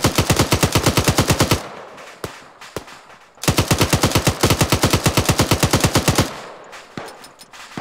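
Rapid automatic gunfire in a shooting video game, two long loud bursts of evenly spaced shots separated by a pause with a few single shots, no talking.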